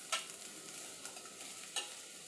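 Chopped onions fry in oil in a pan for a drumstick and milk curry, giving a soft, steady sizzle with a few sharp scrapes and stirs, faint and close with no talk.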